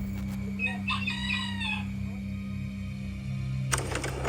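A rooster crows once in Santo Domingo, Dominican Republic, a long wavering call over a steady low hum, followed by a brief burst of broadband noise near the end.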